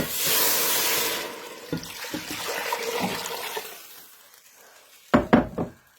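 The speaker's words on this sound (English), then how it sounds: "I'm going to add my chicken broth" Chicken broth pours and hisses into a hot pan, a broad splashing sizzle that fades, followed by a few sharp clinks of utensils against the pan.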